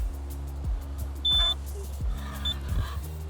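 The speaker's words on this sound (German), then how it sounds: "wartet, bis der Piepton kommt" Groundwater level meter sensor lowered down a monitoring pipe gives a short, high-pitched electronic beep on reaching the water, a brief tone and a fainter repeat heard over a low mechanical drone and clunks.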